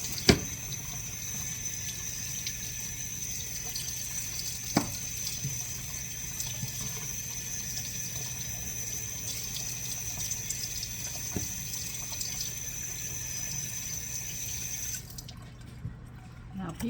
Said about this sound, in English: Let me rinse these off and we'll get them dry.